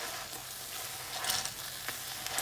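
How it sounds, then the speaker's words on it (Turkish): Eggplant is mashed with a masher in a hot pan over low heat, a faint steady sizzle with soft squishing pressing sounds running throughout at close range. "tatlarının birbirine geçmesi için ezici yardımıyla eziyorum"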